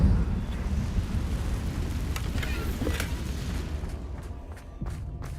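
A Confringo fire spell blast in Hogwarts Legacy, a loud booming impact with rumbling low crackle that fades slowly, followed by a few faint sharp ticks of game effects.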